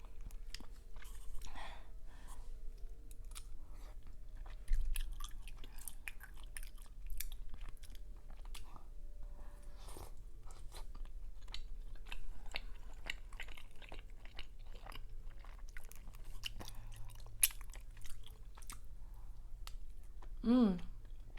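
Chewing and biting on tteokbokki spicy rice cakes and Korean fried wings, close and wet with soft crunches, scattered clicks and smacks throughout, with a louder bite near the end.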